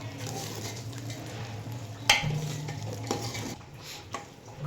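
Jaggery being stirred into lapsi in a pressure cooker, with quiet spoon scrapes and a few metallic clinks against the pot over a faint low hum.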